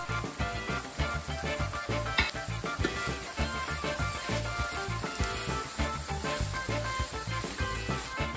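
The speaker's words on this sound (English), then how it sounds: "Add the prawns and leave to cook for another 2 minutes." Prawns frying in a pan with scrambled eggs give a steady, busy sizzle that runs close and continuously throughout, with small bursts of crackling and no voices.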